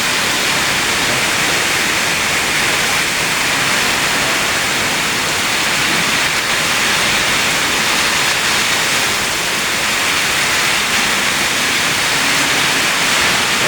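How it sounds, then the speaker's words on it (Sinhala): Heavy rain pours down in a dense, steady roar that fills the whole stretch without a break, loud and close with no voices. "හොඳටම වහිනවා යාළුවනේ"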